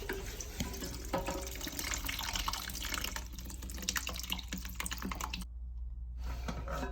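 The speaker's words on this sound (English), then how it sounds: "Now, there goes all the water." Water draining out of a toilet tank during a flush valve replacement, a steady close rushing and gurgling wash that runs throughout and drops out briefly near the end.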